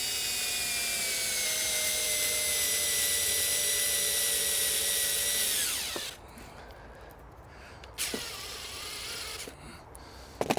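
A power drill drives a 40mm screw into pallet wood for a chair, whining at high speed for about six seconds as the pitch climbs, then stops, followed by two short bursts of the trigger.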